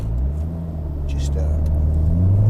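A Fiat Panda Abarth with a turbo engine swap drives on the road in third gear, a close low engine rumble that climbs steadily in pitch and loudness, with faint rattles over it.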